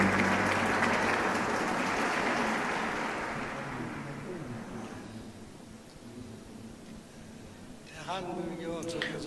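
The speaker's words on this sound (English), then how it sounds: "Let us welcome him with a warm round of applause." Applause from a peace festival audience welcoming a Buddhist priest, loud and dense at first, then thinning and fading over several seconds before a voice begins speaking near the end.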